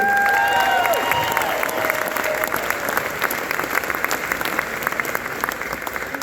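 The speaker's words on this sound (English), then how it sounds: "Can we give a big round of applause to Scott and the whole Meatstock team?" Sustained crowd applause at a Meatstock meetup, loud and dense throughout, with some cheering and whistle-like tones near the start as the clapping rolls on steadily.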